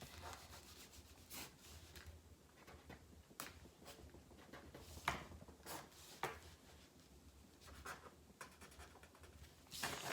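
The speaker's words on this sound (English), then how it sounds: "I take another paper, I'll sketch few sections." Pencil sketching car design sections on paper: steady scratchy strokes and rubbing, close and fairly quiet, with repeated short bursts of scribbling and no talking.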